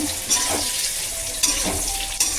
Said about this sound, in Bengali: নেড়ে চেড়ে মালটাকে ভেজে নিলাম